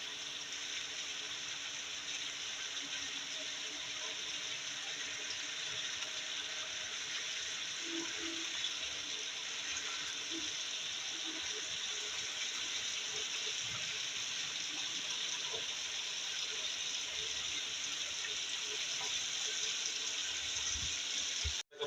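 Water runs into a pan of chicken karahi with ginger-garlic paste, spices and halved tomatoes, a steady, even rushing hiss that holds for over twenty seconds.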